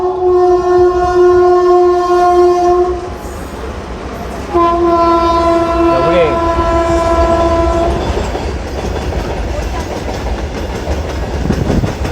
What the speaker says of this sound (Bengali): তেষট্টি double zero eight Rampurhat Katwa MEMU special passenger